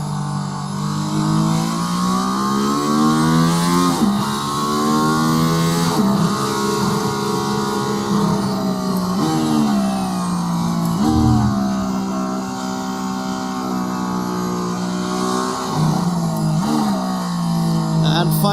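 A Mercedes-AMG ONE race car engine revs high and loud out of a corner, rising in pitch as it accelerates, with brief drops between gear changes.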